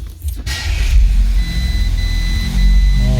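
An Audi A6 with CAN bus errors, a dash full of warning lights and a habit of stalling catches and starts, then settles into a loud, close, steady low idle rumble with a faint high whine above it.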